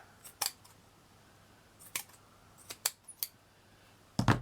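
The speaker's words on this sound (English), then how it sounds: "we're just going to use my sharp scissors to cut around it" Sharp scissors cutting around paper for a mixed media key plaque, heard as several crisp snips in short bursts, close and alone, ending with a louder clatter.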